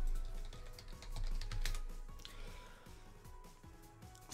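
Keys clattering on a computer keyboard during a Pokemon Insurgence game session, a quick, steady run of soft clicks close to the microphone with a faint background hum and no talking.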